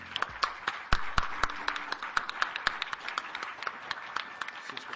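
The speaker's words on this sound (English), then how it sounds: "we want to give them a round of applause" Audience applause rings out as a crowd claps steadily for several seconds, dense overlapping hand claps with sharp individual peaks, loud and close, no talking over it.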